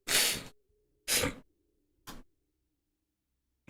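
Three sharp, loud sneezes close by, each shorter than the last, separated by about a second of silence.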